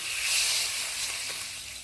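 Vegetables, Malabar spinach, sizzle in a hot pan, a continuous loud hiss of stir-frying that holds steady throughout with no talking.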